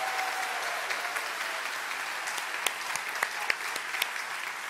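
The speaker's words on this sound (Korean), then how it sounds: "우리 수고한 우리 콰이어들에게 우리 감사와 격려의 박수로." Warm, steady applause from a congregation fills the room for a church choir at a young adult prayer meeting in Toronto, with a few sharper claps standing out near the end; no talking.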